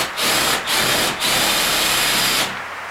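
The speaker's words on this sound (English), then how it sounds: "as soon as I've drilled this hole" Power drill boring a hole, a loud close whirring buzz in three bursts, the first two short and the last longer before winding down.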